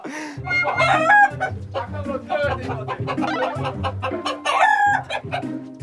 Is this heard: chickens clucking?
yes